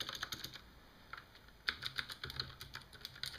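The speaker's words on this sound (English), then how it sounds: "The click in MX Green is pretty sharp." Rapid typing on a mechanical keyboard with Cherry MX Green clicky switches, each keystroke giving a sharp, crisp click in irregular bursts with a brief pause mid-stream, close and fairly quiet, no voices.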